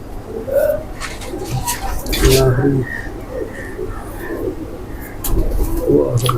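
Golden pigeons coo in soft, repeated low calls close by, mixed with people talking in the background.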